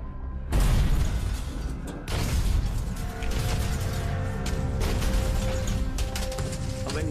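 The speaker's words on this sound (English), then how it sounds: "the Flower-class corvette launches underwater bombs called depth charges" Depth charges from a Flower-class corvette detonating underwater, heavy deep booms opening loudly and rolling on in a dense, sustained low rumble with a second big surge partway through.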